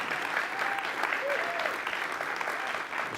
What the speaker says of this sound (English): you can applaud, yes